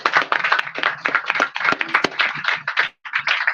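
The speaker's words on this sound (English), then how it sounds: "Round of applause." Audience applause at a book giveaway event, a close, fairly loud patter of hand claps from a modest group, uneven and briefly dropping out before resuming.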